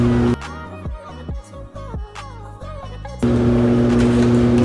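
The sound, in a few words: washing machine running in background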